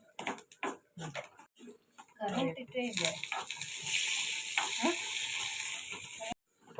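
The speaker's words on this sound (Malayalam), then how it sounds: "നമ്മുടെ തേങ്ങ വറുത്തായിട്ടുണ്ട് അല്ലേ" Grated coconut roasting in a pan for a ground curry paste, with a voice talking at the start before a steady, fairly loud sizzle takes over for several seconds and then cuts off abruptly.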